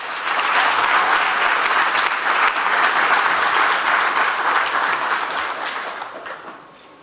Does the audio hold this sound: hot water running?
no